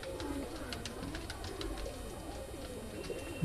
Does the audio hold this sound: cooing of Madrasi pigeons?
yes